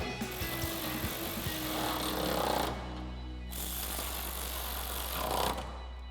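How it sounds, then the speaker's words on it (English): A ratchet with a 10 mm socket tightens the top headlight bolts on a 2014-2015 Chevrolet Silverado 1500, making a steady buzzing, rapid ratcheting rattle in two long bursts, loud and close, with no talk. "we're gonna take our ratchet and 10 millimeter socket and tighten these top two down"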